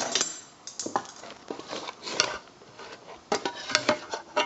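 A metal spoon scrapes and clinks against the inside of a tuna can, giving a series of close, irregular scratchy taps and clatters with short pauses between them.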